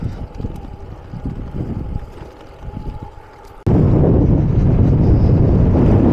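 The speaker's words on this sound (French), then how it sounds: "J'ai un vent de face avec de l'air sec." Strong headwind of dry air blows during a long-distance bike ride in France, buffeting and roaring, suddenly loudening into a heavy, constant gust for the last half.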